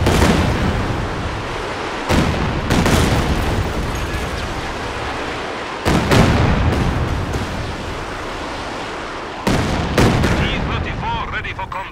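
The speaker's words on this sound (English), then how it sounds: "Firing barrage." Artillery barrage in the Company of Heroes 2 video game: repeated heavy booming blasts with rumbling explosions and gunfire, loud and dense throughout.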